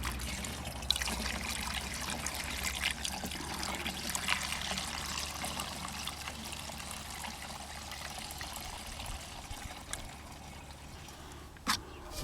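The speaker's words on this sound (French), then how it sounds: "Je verse l'essence dans le bulleur." Gasoline trickles steadily as it is poured into the bubbler of a Pantone-style lawnmower engine, a continuous low liquid dribble with a few small knocks, running alone without talk.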